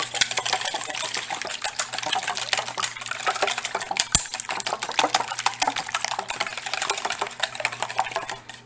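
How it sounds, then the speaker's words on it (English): A whisk beats eggs for gnocchi dough in a bowl, giving a steady, fast, close clatter of metal tines against the bowl that runs without pause and holds one sharper knock midway. "you grab a whisk and just"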